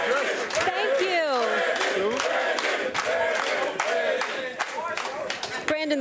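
A television studio audience cheering and clapping, with whoops and rapid applause filling the room while voices carry over the top.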